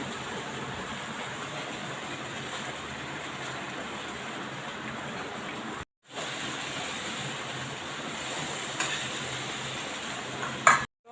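Cauliflower pieces frying in a pan with a steady hiss and sizzle and light stirring scrapes, broken once by a brief gap.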